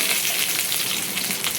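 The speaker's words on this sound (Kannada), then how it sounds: "ಈಗ ಕರಿಬೇವು ಸೊಪ್ಪು ಹಾಕ್ತಿದ್ದೇನೆ" Curry leaves crackle and sizzle in hot oil for a pumpkin dish, a dense, steady frying hiss close by with no pauses and no voices.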